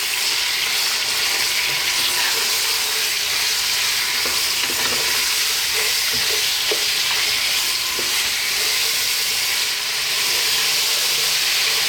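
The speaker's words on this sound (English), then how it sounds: "Medium heat, 6 minutes. Give it a stir every now and then." Pieces of lamb fry over medium heat in a pot for a stew, giving a steady, loud, dense sizzle throughout with occasional soft scrapes and knocks as they are stirred, and no talking.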